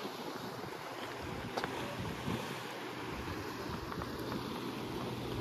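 Sea wind and waves wash around the walls of a coastal fort, a constant rushing roar with buffeting gusts on the microphone and a few faint higher splashes, no talking.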